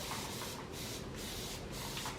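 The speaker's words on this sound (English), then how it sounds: "spray them down." Steady hissing spray from a bottle sanitizing candle jars, repeated in several quick pumps with brief dips between them, close and moderately loud, no talking.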